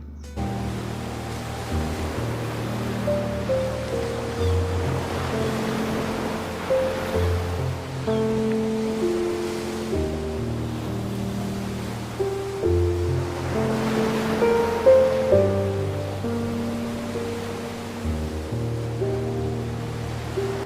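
Surf rolling in at Payyambalam beach in Kerala, a steady wash of noise that swells in two broad surges, heard under continuous background music.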